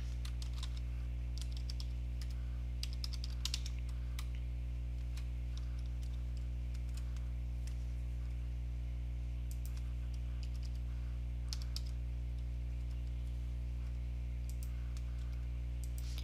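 Computer keyboard keys tapped in short irregular bursts while entering a username, soft clicks over a steady background hum with no talking.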